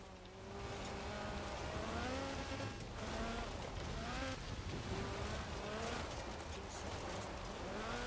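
A rear-wheel-drive hatchback rally car with a 2.2-litre Lotus 911 slant four-cylinder engine, driven in a racing video game, revs steadily and loudly, its engine note climbing and dropping repeatedly through gear changes.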